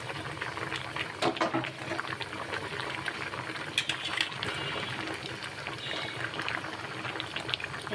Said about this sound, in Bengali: এই তো দেখুন টমেটোতে বলক এসে পড়েছে।